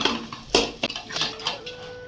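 Mashed potato being stir-fried into spice masala in a pan, quick scraping and clinking of a spoon against metal in short uneven strokes, close and clear.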